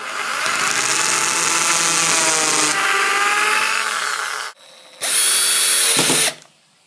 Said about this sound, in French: Je vais d'abord faire des pré-trous pour ensuite visser plus facilement.